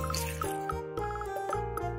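Light water drips and small liquid splashes while a cartoon reindeer is washed, a few quick soft plinks over a bright background tone, brief and close.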